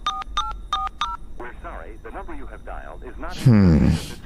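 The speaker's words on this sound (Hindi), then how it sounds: "The call got cut. Let me try calling her." Four quick electronic dialing beeps sound, followed by a person speaking with a brief louder burst of voice near the end.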